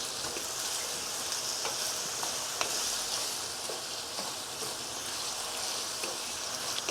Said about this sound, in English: After you add on the caramel, you stir it up.